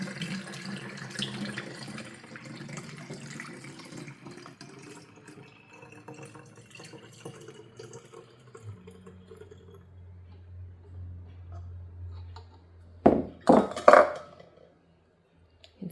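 Non-chlorinated water pours steadily from a tank into a jar, a continuous close trickle that changes pitch as the jar fills, then stops after a few final splashes.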